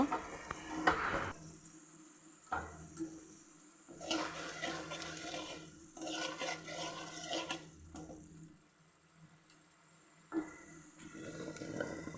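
Prawns and tender vegetable stalks cook in a pan, with soft sizzling, stirring and wet clatter coming in bursts between quieter stretches, close by and fairly faint.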